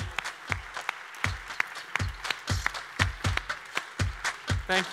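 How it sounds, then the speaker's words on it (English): Applause at a startup prize closing ceremony as the event founders are called on stage, heard as sharp, fairly evenly spaced claps from a modest crowd, moderately loud with no talk over it. "please give them a big hand of applause"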